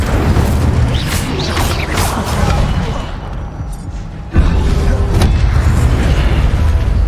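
Spell effects crash and boom in the Hogwarts Legacy video game, a loud dense rumble with sharp bursts and a sudden louder blast partway through, while spell names are shouted.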